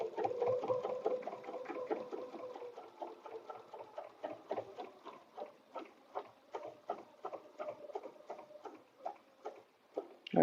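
A sewing machine quilting a butterfly bed runner, with a steady run of rapid, evenly spaced stitching ticks and a low motor hum near the start, close and alone.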